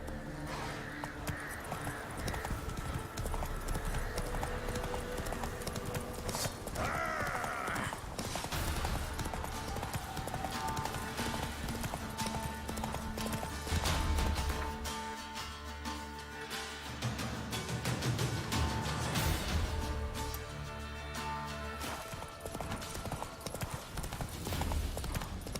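Horse galloping in the video game The Witcher 3, with steady rhythmic clip-clopping hooves running through the whole stretch and game sounds layered around it.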